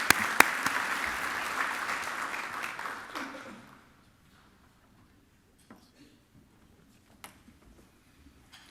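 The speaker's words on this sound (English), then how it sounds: "let's go ahead and give him another round of applause" Audience at a journalism awards ceremony clapping for a recipient, a strong round of applause that fades out after about three seconds, followed by near silence with a few faint scattered claps and small noises.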